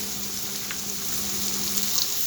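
Local fish frying in a pan with a little turmeric and chopped pumpkin, giving a soft, steady hiss and sizzle that stays even and fairly quiet throughout.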